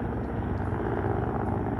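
Military helicopter departing at low level during a special forces exercise, a steady close rotor thump and engine roar filling the whole stretch without talk.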